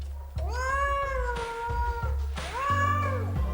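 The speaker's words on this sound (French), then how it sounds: "En particulier, le miaulement." Two drawn-out cat meows, close and clear, the second rising then falling in pitch, with a brief low buzz near the end.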